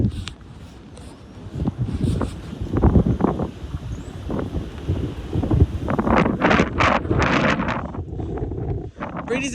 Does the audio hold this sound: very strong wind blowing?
yes